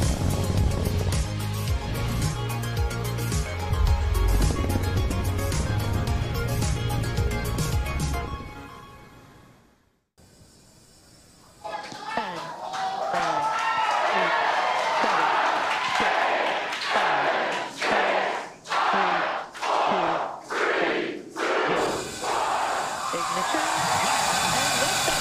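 Spaceflight Simulator rocket launch with side booster ignition: a loud roaring rumble that drops away briefly, then returns as a broad hiss and roar with rhythmic pulsing swells, voices mixed in over the noise.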